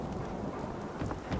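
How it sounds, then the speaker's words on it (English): Steady rain falls in the Fallout 4 video game, a soft, even hiss of drops with low rumbling beneath and no voices, heard alone and fairly faint. "Ooh, it's raining."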